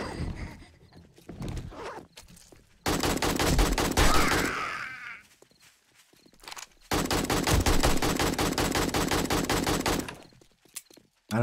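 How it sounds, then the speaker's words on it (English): Gunfire in the zombie survival game 7 Days to Die, Alpha 20 with the Joke Mod: loud sustained bursts of rapid automatic shots in two long volleys with a brief lull between, preceded by a few scattered shots. "I don't know what I was shooting at right there."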